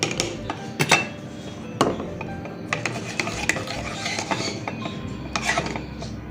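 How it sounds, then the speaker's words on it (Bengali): A spoon scrapes and stirs Cerelac baby food in a small dish being cooled for a six-month-old umbrella cockatoo chick, with close irregular clinks and scraping strokes and no talk. "নাড়িয়ে নিচ্ছে আর একটু"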